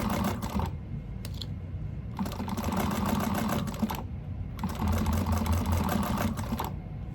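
A sewing machine stitching an Aurora bag runs in three bursts of steady, fast whirring and clatter, with short pauses between the runs. It is close and moderately loud, with no talk.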